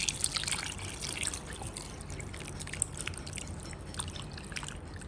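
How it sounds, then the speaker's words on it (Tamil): Water poured from a vessel over frozen chicken drumsticks, a soft, continuous trickling splash with brighter spattering near the start, fairly quiet and without talk. "தண்ணி ஊற்றி கொஞ்சம் நேரம் வச்சிடலாம்."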